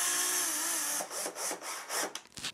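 A power drill drives screws into old cedar boards for a patio table, a sustained whir followed by several short bursts as the screws seat, close and fairly quiet.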